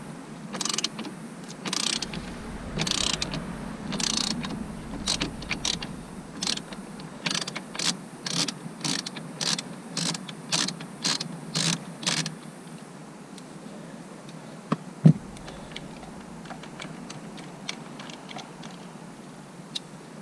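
A ratchet with a socket extension loosens a nut buried inside a Nissan steering wheel during airbag clock spring replacement, giving about a dozen regular bursts of close, crisp clicking that stop partway through, followed by quieter handling noises.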